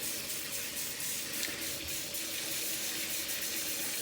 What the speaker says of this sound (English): you can just set it right in your sink, start filling it up with cold water